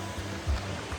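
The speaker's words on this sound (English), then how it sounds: "And yeah, there's the waterfall. You can hear it so loud right now." A waterfall at Secret Beach roars steadily and loudly close by, a continuous broadband rush with no talking over it.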